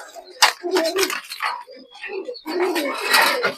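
A pair of young desi golla pigeons, a colored breed, coo and flutter up close, with restless bursts of noisy movement and throaty calls that come and go.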